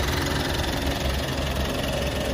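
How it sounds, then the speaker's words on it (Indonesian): A Mitsubishi Pajero Sport Dakar 2.4 diesel from 2016 idles smoothly, a loud, steady, close engine rumble that runs unbroken with no voices. "Mesinnya halus, dari belakang asapnya juga normal"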